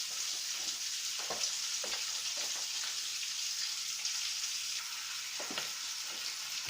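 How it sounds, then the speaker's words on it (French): Pike fillet frying gently in a pan, a soft continuous sizzle with occasional small pops and crackles, steady and close throughout with no talking. "Et on laisse cuire doucement."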